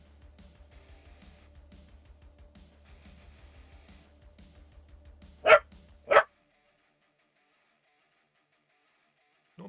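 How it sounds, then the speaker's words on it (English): A dog gives two sharp, loud barks close by after a low rhythmic rumbling hum, then silence follows. "No barking."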